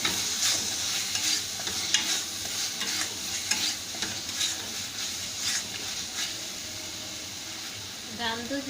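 Chicken fries in a pan under a steady bright sizzle and hiss, with repeated scraping stirs close by throughout and a brief clatter near the end.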